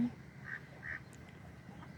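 A few short duck quacks, moderately near, over a low murmur of background noise, with no speech.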